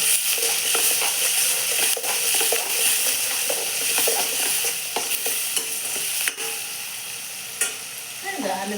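A chutney mixture with added salt is stirred in a pan, giving a steady scraping, sizzling texture with scattered clicks of the spoon against the metal throughout, close and continuous with no voices.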